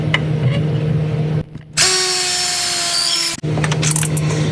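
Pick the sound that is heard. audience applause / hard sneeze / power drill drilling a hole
power drill drilling a hole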